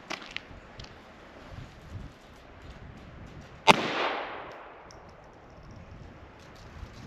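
A single sharp crack from a 1989 Ruger Mark II semi-automatic pistol firing .22 LR rings out outdoors. It is fairly close, with a brief fading tail, amid quiet wind and faint clicks before and after.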